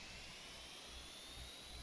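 Jet engines spool up in a small player-built jet in Stormworks, a steady, fairly quiet broadband whine and rumble that holds level and swells slightly at the end, with no talking.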